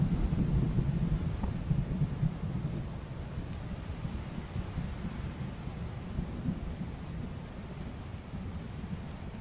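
Thunder rumbles under steady, heavy rain falling in a horror video game, a dense low roar that holds across the whole stretch with no voices.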